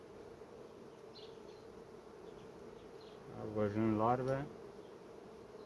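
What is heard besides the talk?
honey bees buzzing in an open hive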